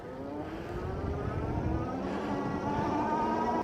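An Engwe M20 e-bike motor whining under full-throttle acceleration, a steady electric hum that rises gradually in pitch over road and wind rumble, with no voices.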